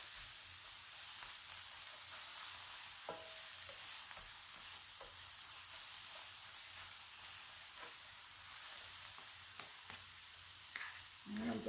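Spinach and garlic sauté in butter in a pan, a faint steady sizzling hiss with occasional soft tosses and scrapes, and no talking.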